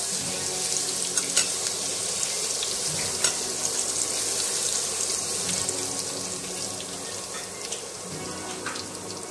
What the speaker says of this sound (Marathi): लसूण छान लालसर आता परतून घ्यायचा